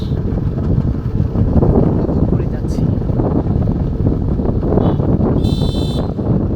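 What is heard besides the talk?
wind blowing while travelling along a rural road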